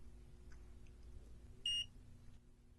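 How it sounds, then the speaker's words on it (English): An ODM RP460 optical power meter gives a single short, clear electronic beep while its reference is being set, sounding once in an otherwise quiet room with faint background hum. "you can now set your reference by holding the Dbm key for 4 seconds, until you hear a second, slightly longer beep."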